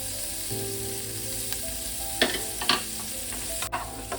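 Chopped onion and capsicum drop into a hot pan and fry with a constant close sizzle, while a spatula stirs and scrapes in a few sharp knocks and clatters toward the end.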